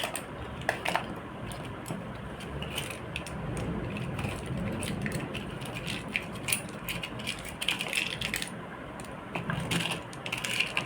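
Handmade paper chits for board reading, shuffled by hand: a soft, steady rustle with many small clicking ticks throughout, close and quiet.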